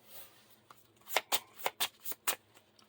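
Playing cards for The Lord of the Rings: The Card Game being shuffled: a quick burst of six crisp riffling flicks close up, evenly spaced, after a quieter start.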